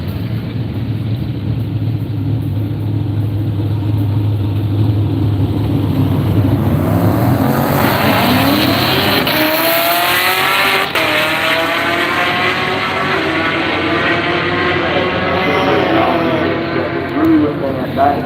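Modern muscle cars drag racing at the strip, with a loud, sustained engine roar that builds into a rising, harmonic-rich acceleration sweep midway and stays loud throughout, while an announcer's voice carries over the noise.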